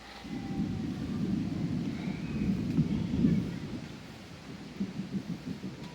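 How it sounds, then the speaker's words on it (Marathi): Distant thunder rolls in a long low rumble that swells to a peak midway, then fades into softer gusts of wind. "गडगडण्याचा आवाजसुद्धा त्याच्यात येतो आहे"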